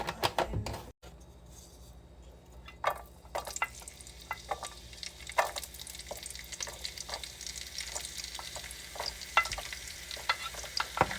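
Ginger and onion frying in oil in a pan while a Filipino dish of shrimp and squash cooks, a steady sizzle broken by repeated sharp scrapes and stirs of a utensil.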